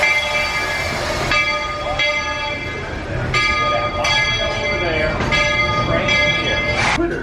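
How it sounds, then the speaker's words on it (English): A train pulls into the station at Magic Kingdom, its bell clanging steadily with bright ringing tones over a busy crowd murmur and nearby voices, the rumble of the rail cars underneath. "The train's coming in right here."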